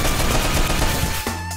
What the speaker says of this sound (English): First time a gun ever gave me a kickback.